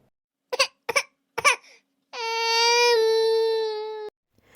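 A played recording of a baby crying, with a few short sobbing gasps and then one long, steady wail lasting about two seconds, loud and close in a quiet room.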